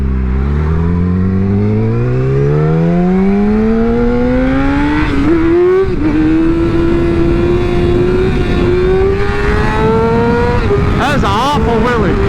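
Yamaha R6 motorcycle engine climbing steadily in pitch as it revs hard through a wheelie, loud and close, with wind roar and a voice briefly talking near the end.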